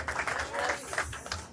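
A church congregation at an annual conference applauds, soft rapid clapping mixed with murmuring voices, fairly faint.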